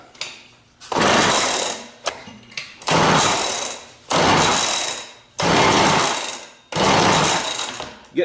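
McCulloch 6-10 chainsaw engine on choke sputters in repeated loud bursts, about six rough firing runs each lasting roughly a second, separated by short pauses as it catches and dies.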